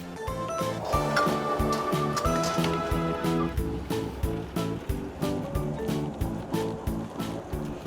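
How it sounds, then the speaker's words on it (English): A big paddle stirs a milk-powder-and-water mix in a very large tank, giving rhythmic sloshing and splashing strokes in a steady repeated pattern, close and fairly loud, set against a musical backing. "He gives it a stir with his big paddle to make sure it's mixing just fine."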